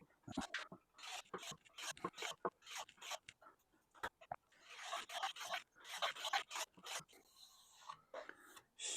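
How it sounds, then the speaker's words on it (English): A hand tool rasps along the sharp, freshly planed wooden side edges of a classic dresser to chamfer the corners. It makes repeated scraping strokes in an uneven rhythm, close and clear, with no talking. "now I'm going to take the sides and I'm going to chamfer these corners"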